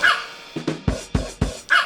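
A small Pomeranian dog gives about five sharp, high barks at close range in quick succession, each bark short and loud with brief pauses between.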